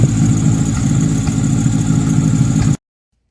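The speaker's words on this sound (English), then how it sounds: "Turbo is definitely spinning way better than what it was" Turbocharged Nissan S13 240SX engine running steadily with a low, rumbling idle, loud and close, holding even for a few seconds before cutting off abruptly.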